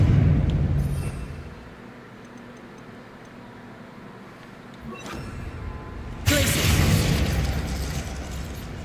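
Spell-blast explosions from the Hogwarts Legacy fire spell Confringo ring out in a video game, with a sharp burst near the start, a quieter stretch, then a loud sustained roaring blast erupting near the end.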